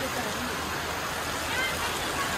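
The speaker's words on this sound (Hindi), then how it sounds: "देखो बारिश" Rain pours steadily at a railway station, a dense, even hiss of falling water that stays loud and unbroken throughout.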